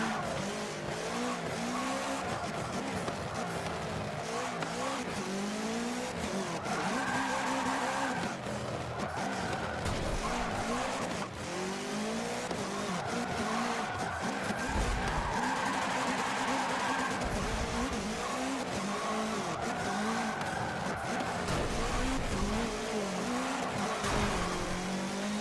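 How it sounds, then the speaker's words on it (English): A 2016 Subaru WRX rally car drifts in the Forza Motorsport 7 game on Dubai and Prague tracks, with a continuous loud engine roar rising and falling with revs alongside long tire squeals and skids throughout, and occasional talk underneath. "I have no idea what the perfect drift is."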